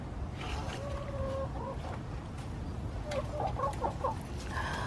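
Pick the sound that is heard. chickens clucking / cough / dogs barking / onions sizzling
chickens clucking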